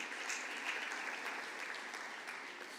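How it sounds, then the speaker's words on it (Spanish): A church congregation claps together in a dense, sustained round of applause, even and continuous, heard from a moderate distance with no voices above it. "Dale un fuerte aplauso al Señor"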